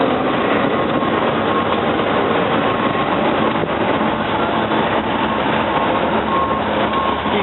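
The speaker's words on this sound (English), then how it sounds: "Moving through with the manifest freight right beside 30th Street Station here." A manifest freight train rolls past close by beside 30th Street Station, a dense, steady roar of rumbling wheels and engine noise holding at an even level throughout.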